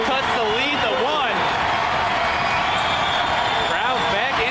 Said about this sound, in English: Crowd back into it again.